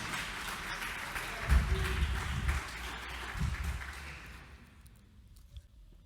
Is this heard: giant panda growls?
no